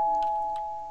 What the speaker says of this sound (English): Ring the doorbell.